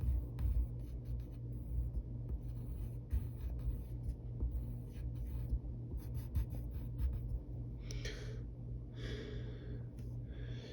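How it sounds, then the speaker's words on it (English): A pen scratches across paper drawing a rectangle, soft strokes and short scraping lines in a quiet room, faint and close, with a few brisker strokes near the end. "let's draw the rectangle"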